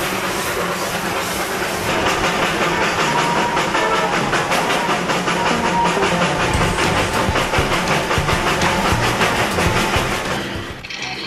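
The Darjeeling toy train's steam locomotive runs on rails with a loud, dense chuffing and rattling clatter of wheels and hissing steam, steady and close, easing off at the very end.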